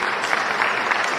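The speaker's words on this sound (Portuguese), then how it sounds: "Me ajudem na salva de palmas aí." Congregation applauding inside a church, a brief burst of dense, continuous clapping from many people, loud and close.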